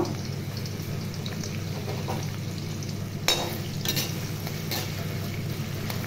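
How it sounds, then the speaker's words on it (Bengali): Chopped onions frying in hot oil for birista, a steady dense sizzle with a few brief stirring scrapes near the end. "কিছুটা পেঁয়াজ আমি দিয়ে দিলাম বেরেস্তা করার জন্য"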